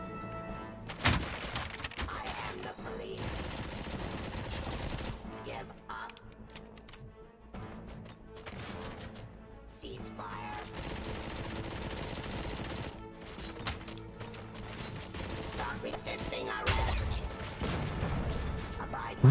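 Gunfire from the Robocop: Rogue City video game: bursts of shots and mechanical clatter crack out repeatedly at shifting intensity over a dense game soundtrack, with someone talking at times.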